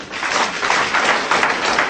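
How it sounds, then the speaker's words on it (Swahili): A church congregation claps hands for Jesus during a New Year service, a dense, steady wash of many hands close and continuous, with no clear gaps. "Piga Yesu makofi."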